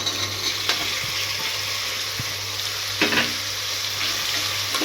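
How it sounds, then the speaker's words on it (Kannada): Potato, carrot, peas and beans sizzle steadily in hot oil in a pan, a continuous close frying hiss with a few soft stirring knocks and no talking. "ಇವು ಆಲೂಗಡ್ಡೆ ಕ್ಯಾರೆಟ್ ಬಟಾಣಿ ಬೀನ್ಸ್ ಎಣ್ಣೆ ಒಳಗೆ ಫ್ರೈ ಆಗೋದ್ರೆ ಮೆತ್ತಗಾಕವ್ರಿ"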